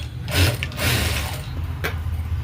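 The automatic thread cutter of a Jack A2 sewing machine gives short, close mechanical clicking and ratcheting bursts, with a sharp final snap near the end.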